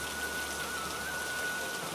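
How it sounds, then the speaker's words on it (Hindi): Heavy rain pours steadily in a dense, unbroken hiss, loud and close, with no voices or other sounds. "इतनी भारी बारिश हो रही है।"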